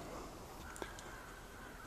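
Ravens calling in the early morning, a single short caw heard faint and far off over a soft, steady outdoor hiss.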